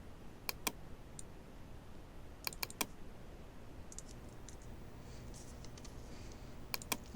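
Computer mouse double-clicking during Photoshop editing work, with several pairs of sharp, quick clicks spread across a quiet stretch, close and fairly crisp over faint room hiss.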